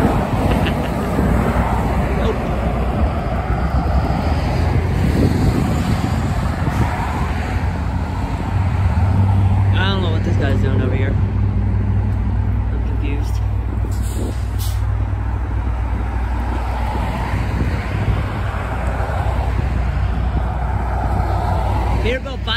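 A Volvo VNL semi truck passes on a roadway, a steady loud low engine rumble and tire roar over about twenty seconds, with traffic noise around it and a brief air brake hiss.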